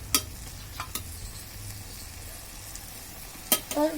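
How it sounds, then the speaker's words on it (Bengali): Okra fries in a pan and gets stirred, with a faint sizzle broken by a few sharp scrapes and clinks of the spoon against the pan. "ভেন্ডিটা একটু উল্টিয়ে যাচ্ছে, সেই জন্য আমরা একটু আবার ভালো করে নেড়ে নিই"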